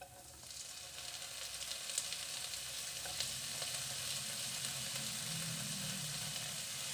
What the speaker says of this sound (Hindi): इनको भी थोड़ा सा भून लेंगे। और साथ में ही डाल देंगे टमाटर, 1 बारीक कटा हुआ टमाटर।